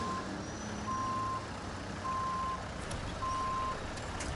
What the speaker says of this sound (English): Don't fucking get stuck, you fucking truck.